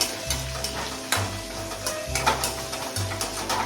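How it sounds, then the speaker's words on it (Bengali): Dried red chillies and bay leaves are stirred in hot oil with cardamom and cinnamon for a curd fish curry. A loud, close crackle and spatula scrapes play over a low pulsing hum. "শুকনো লঙ্কা দিচ্ছি, তেজপাতা দিচ্ছি, দিয়ে নাড়াচাড়া করছি করে।"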